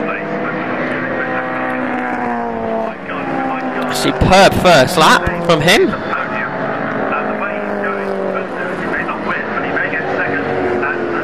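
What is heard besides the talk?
historic saloon race cars lapping Brands Hatch GP circuit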